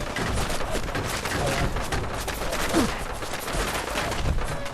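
Enemy gunfire in the Fallout video game crackles in rapid, dense bursts that run almost continuously, with a few heavier thuds mixed in and no talking over it.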